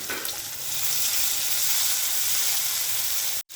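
Small shallots sautéing with curry leaves and dried chillies in hot oil give a loud, steady sizzle that runs close and unbroken, then cuts out sharply near the end.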